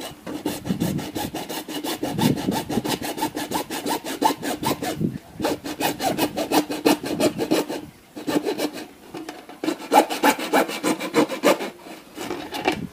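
A hand saw rasps back and forth through wood in quick, steady strokes, with brief pauses between bursts of rhythmic sawing, close and clear with no talking.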